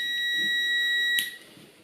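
A multimeter's continuity tester gives one steady high-pitched beep across motorcycle switch wires, close and clear, then cuts off abruptly about a second in, leaving faint room noise.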